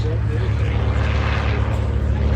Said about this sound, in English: Powered by a Continental radial engine, I believe it's an R670, about 220 horsepower on the Stearmans.